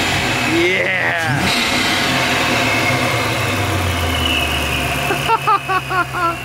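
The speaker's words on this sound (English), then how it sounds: "Does it have any like blow off whooshy noises whenever you rev it?" A classic Ford Mustang engine idles and revs up close, a steady mechanical drone with rising and falling throttle, while people talk over it.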